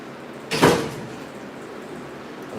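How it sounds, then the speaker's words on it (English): A single indoor door closing, one brief muffled thud-and-swish in a home, then steady low room noise. "Close the door, Kaylin."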